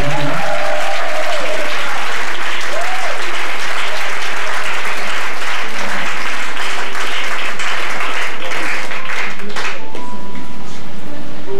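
A congregation applauds during a Sunday church worship service, sustained dense clapping filling the room for about ten seconds before thinning out near the end.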